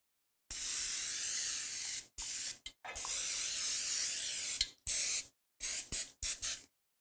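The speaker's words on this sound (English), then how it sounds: "We want to spray the inside with cooking spray." Cooking spray hisses from an aerosol can into a cake pan: one long steady burst, then a longer spray, followed by several quick short spritzes, close and clear with no talking.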